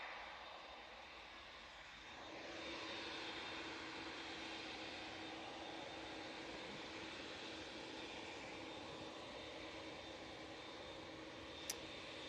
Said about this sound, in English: And that TUI to Cancun is just about to come onto the runway.